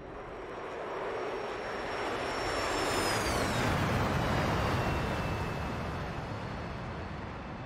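An F-104G jet lands in a flight simulator game, its engine roaring steadily while a high whine sweeps down in pitch as it slows over the runway, with no talking.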